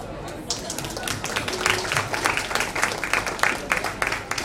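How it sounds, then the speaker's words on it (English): Audience applause at a 2016 book launch at a Crossword bookstore, a mid-sized crowd clapping in a loose, uneven patter that builds after a brief pause and carries on steadily, with some chatter mixed beneath. "I think that deserves a round of applause"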